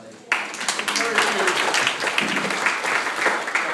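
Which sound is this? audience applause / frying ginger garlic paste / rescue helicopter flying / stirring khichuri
audience applause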